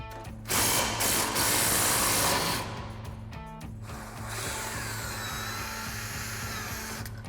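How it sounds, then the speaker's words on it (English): A ratchet clicks rapidly as it loosens the 21mm track bar bolt on a RAM 1500 pickup's rear suspension during a lift kit install, in two loud close runs separated by a brief pause. "now we're just gonna take our 21mm bolt out of our track bar"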